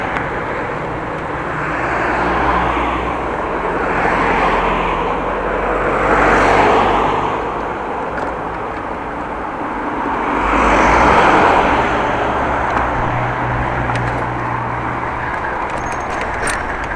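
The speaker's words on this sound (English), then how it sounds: "Let's go this way out of the big stream of bikes and cars." Steady city traffic of bicycles and cars in the Netherlands, a continuous roadway rumble that swells and fades as vehicles pass nearby, with no voices.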